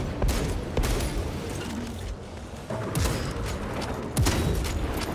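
Gunfire in Warhammer 40K: Space Marine 2, with repeated sharp shots and heavy bursts over a dense, continuous battle din, loud and close throughout.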